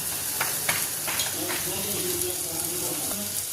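Asafoetida tempering for dal crackles in hot oil, a steady close sizzle with a few sharp pops and faint stirring. A low voice murmurs briefly underneath.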